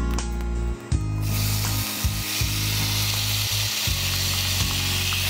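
Fried pumpkin lands in a hot mustard-seed and dried-chili tempering, giving a loud, continuous sizzle with a brief dip and sharp bursts as pieces drop in.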